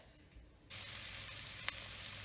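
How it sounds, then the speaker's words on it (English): Two onions fry in a pan, a steady soft sizzle that starts after a brief quieter moment, with one small pop partway through. "So I've just got the 2 onions frying off in the pan."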